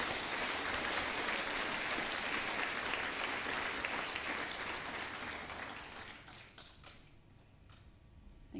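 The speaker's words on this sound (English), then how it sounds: "Please give 5M a round of applause." Audience at a primary school speech day clapping: dense, sustained applause that holds steady for several seconds, then thins out and fades toward scattered claps.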